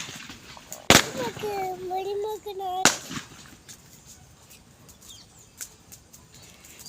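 Two sharp, loud firecracker bangs about two seconds apart, with a voice and chatter in between and fainter pops afterward outdoors.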